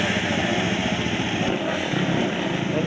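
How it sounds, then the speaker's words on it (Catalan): A KTM motorcycle engine at a hill climb race, a loud, sustained buzzing drone that holds steady throughout with no talk over it. "En Toni Navarrete amb la seva KTM"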